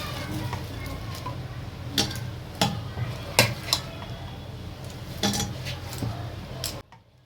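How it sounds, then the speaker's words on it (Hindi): A metal pressure cooker is handled in a home kitchen before boiling mustard greens and stalks, producing several sharp clanks and taps of metal against metal at irregular intervals over a low background hiss, close by. "ले लेते हैं कुकर, इसमें कर लेते हैं इन सबको बॉईल।"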